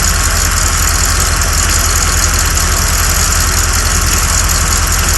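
A 1987 Corvette engine idles steadily with the air conditioning compressor running, a loud, close, continuous rumble with a regular pulsing beat and no talk.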